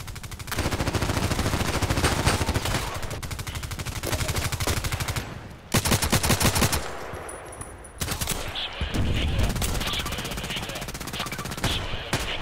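Assault rifles fire in the online shooter Contract Wars, with dense, rapid automatic bursts that run almost nonstop, broken by a few short pauses and then resuming loud and close.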